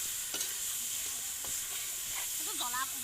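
Pork frying in a pan in a home kitchen, a steady close sizzle and hiss with occasional stirring scrapes, while a faint voice talks in the background.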